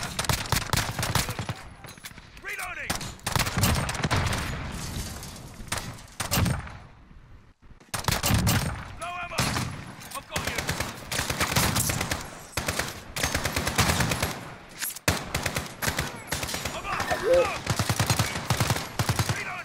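Heavy video game gunfire plays in rapid bursts and long automatic volleys, loud and close, with brief pauses between the strings of shots across about twenty seconds.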